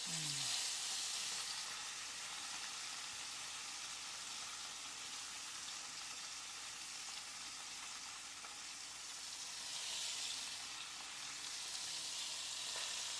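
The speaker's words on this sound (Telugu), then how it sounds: "కొబ్బరి నూనె కొద్దిగా వేడైన తర్వాత ఇవన్నీ ఈ మారినేట్ చేసినటువంటి వాటిని వేయడమే" Marinated wild-caught Atlantic salmon fries in hot coconut oil with a continuous close, bright sizzle that swells slightly around ten seconds. A faint voice can be heard briefly at the start.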